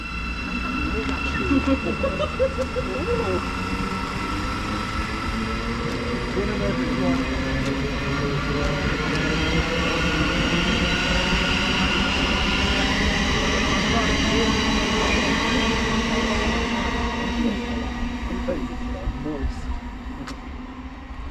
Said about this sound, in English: going out now is the 1555, sorry. Thameslink service to Brighton from Cambridge.